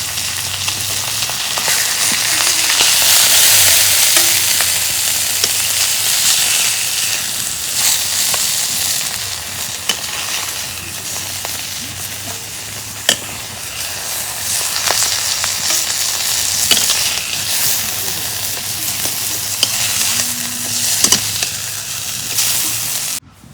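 Pangas fish frying in hot oil make a continuous, loud, close sizzle, with scattered pops and a few sharp clicks, and no talk.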